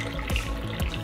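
Liquor pours from a big bottle into a glass in a steady close splash with two brief gurgling glugs, no talk over it.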